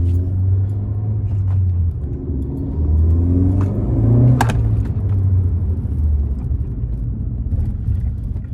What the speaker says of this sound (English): I noticed you could also hear the fucking Cobra intake 10 times louder now too